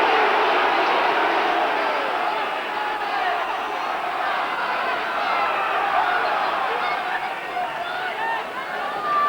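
A large crowd roars steadily at a 1992 Gloucester versus Northampton rugby match, a dense continuous wall of cheering and shouting throughout, with commentary voiced over it.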